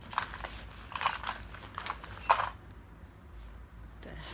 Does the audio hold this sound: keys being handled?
yes